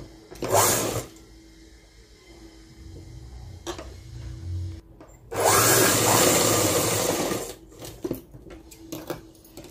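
Sewing machine running short stitching bursts along a school uniform langa, with a longer steady whirring run midway and quiet handling sounds between, close and alone.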